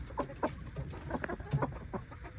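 Several chickens cluck in short, irregular bursts, fairly quiet and close, with no talking.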